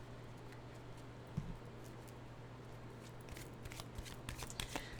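A deck of animal cards shuffled close by, a steady soft papery riffle running throughout with a few sharper flicks toward the end, faint and with no talk.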